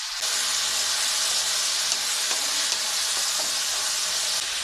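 Onion and tomato frying in oil in a pan, a loud, continuous hissing sizzle held close throughout with faint stirring scrapes, no voices.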